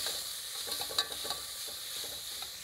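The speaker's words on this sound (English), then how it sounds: "That goes into our pan. And we'll stir that around. Get that going till it's soft." Yellow or white onions sautéing in a pan for pea soup, with a steady soft sizzle and scattered scraping clicks of a spoon stirring, close and alone with no voices.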